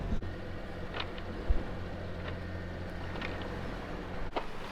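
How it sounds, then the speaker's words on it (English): Sailboat motoring under engine on a catamaran cruise, a low steady drone with water and wind noise and a few faint knocks, no voices. "decided to motor again"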